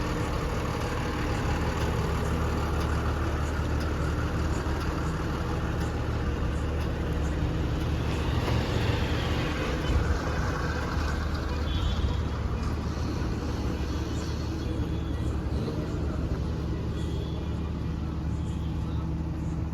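A loaded truck's engine runs steadily for the whole stretch, a deep continuous rumble and drone at the start of a road journey to Gujarat, with faint voices in the background.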